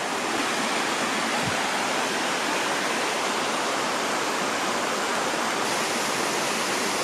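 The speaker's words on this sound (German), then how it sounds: "So, ein Wasserfällchen da," Small waterfall in a gorge stream, a constant broadband rush of falling water that stays steady and loud throughout, close by with no voices.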